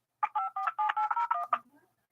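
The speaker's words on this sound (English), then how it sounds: "I don't know if that's my phone." A phone gives off a quick run of short, bright electronic beeps, about nine clipped tones in a rapid uneven rhythm that trail off into softer blips.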